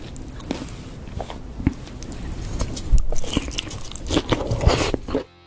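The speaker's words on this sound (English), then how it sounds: "chewing the meat of such a large, juicy sea creature" Close, wet chewing and crunchy bites repeating irregularly, with soft squishes and scrapes building up before stopping abruptly.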